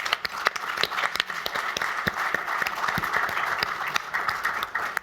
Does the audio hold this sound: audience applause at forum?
yes